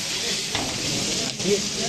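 Onion and capsicum sizzle and crackle in hot oil in a pan, a steady close frying hiss with a brief stirring scrape.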